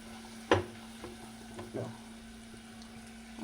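Gobi manchurian being stirred in a frying pan: a sharp scrape-and-sizzle at the start, then a couple of softer stirring strokes over a faint, steady frying hiss, close by with no talking.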